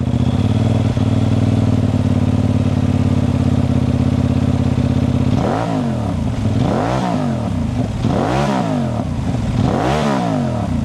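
A Benelli Leoncino 800 Trail motorcycle idles with a steady rumble through its exhaust, then is revved four times in rising and falling sweeps, close and loud.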